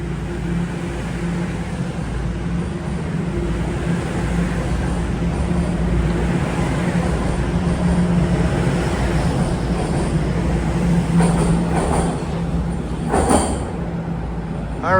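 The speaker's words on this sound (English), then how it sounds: "We did train line 1 at Dundas Station, Toronto Times Square" A Toronto subway Line 1 train at Dundas Station rumbles steadily and loudly throughout, with wheel squeal and a few metallic screeches rising near the end.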